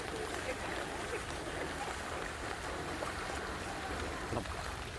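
Water sloshing and splashing as people wade barefoot through flooded walkways at Epcot, a steady broadband wash of water and movement filling the scene with no clear voices.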